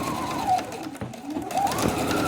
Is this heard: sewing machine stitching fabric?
yes